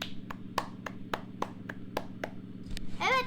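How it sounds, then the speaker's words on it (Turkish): A dozen or so slow, evenly spaced hand claps sound close but fairly quiet over a low hum, ending with a brief burst of a voice, as applause requested for a boy named Çınar Ali. "Çınar Ali için bir alkış lütfen."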